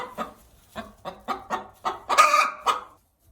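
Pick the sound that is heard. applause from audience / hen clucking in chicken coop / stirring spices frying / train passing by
hen clucking in chicken coop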